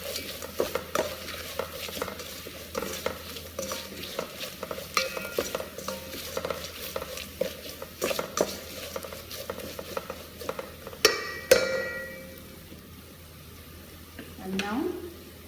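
A spoon stirs spice mix into caramelized onions in a frying pan for Sri Lankan chicken biryani: steady sizzling with repeated scraping and clinking strokes, close and moderately loud, then a sharper clatter near the end.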